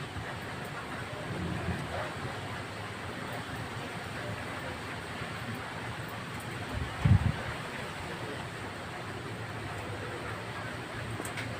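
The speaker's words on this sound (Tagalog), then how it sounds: "Sobrang lakas ng hangin niya." Strong wind roars steadily outdoors through a mango tree, a broad rumbling gust noise buffeting the microphone, with one brief thump partway through.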